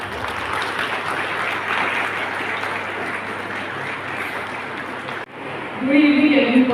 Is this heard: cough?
no